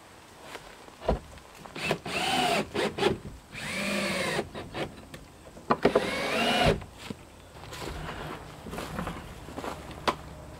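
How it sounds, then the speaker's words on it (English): Cordless power drill driving screws into the wood of a hinge on a DIY composting outhouse, several short whirring bursts of varying length separated by pauses, close and fairly loud. "Put a couple of screws in and we'll try it."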